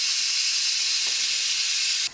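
A Cosori electric pressure cooker vents its steam pressure in a loud, steady high-pitched hiss that holds constant for about two seconds, then drops away abruptly at the end.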